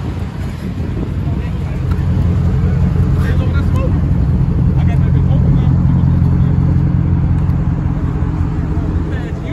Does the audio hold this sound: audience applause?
no